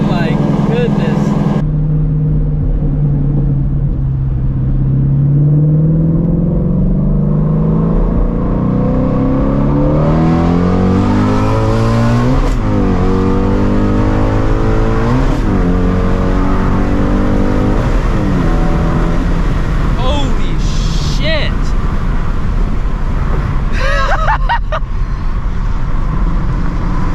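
A Shelby GT350 V8 pulls hard through the gears with no-lift shifts, its loud engine climbing in repeated rising sweeps punctuated by quick shift breaks, heard from inside the cabin with a voice briefly exclaiming over it.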